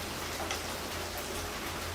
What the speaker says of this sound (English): it's like rain on a tin roof right now